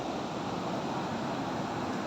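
Open sea waves roll along the coast between Bataan and Subic, a faint, continuous rushing surf with wind noise and no distinct breaks or voices.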